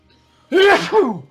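A single close, loud human sneeze erupting in two quick bursts after a near-silent pause.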